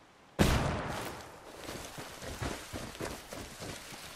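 A single loud shot cracks out in the tactical shooter Ghost Recon Wildlands, followed by a fading echoing tail and a series of softer thuds and rustles.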